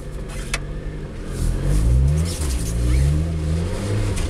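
A Lotus Exige's engine revs hard while the car is drifting on snow through a chicane after a downshift into second, the loud close engine note rising and falling in sustained surges with no speech.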